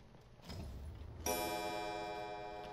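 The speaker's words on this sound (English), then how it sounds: "Clocks make fucking noise, man." Clock ticking in the Resident Evil 7 video game, a sudden ringing onset after a low rumble, then a sustained bright tone with ticking texture.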